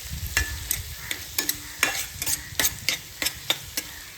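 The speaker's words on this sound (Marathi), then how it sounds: "चला आता हे मसाले आहेत त्यांनी हे मिक्स करून घ्यावं आपण." Spices being stirred into bombil (Bombay duck) bhurji in a frying pan make a steady series of sharp scraping strokes about every third of a second over a faint sizzle.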